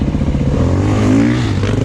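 A 430 dirt bike is ridden hard, its engine loud and close with a dense, steady, throaty roar and a slight rise in pitch, plus faint mechanical clatter.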